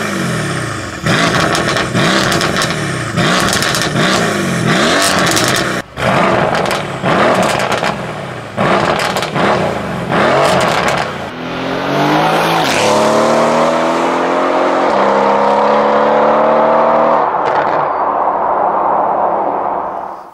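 A Mercedes C63 AMG fitted with FI downpipes revs hard, loud bursts of engine roar and pops repeating in quick succession, then a sustained rising acceleration as the car pulls away, with no talk over it.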